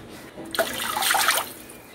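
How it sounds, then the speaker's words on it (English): Water poured into a preheated pan of rasam gravy, a broad splashing pour rising suddenly, holding for about a second, then stopping, close and fairly loud with no voice. "And now we can add little water."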